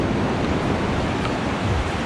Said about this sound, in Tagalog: mataas yung alon.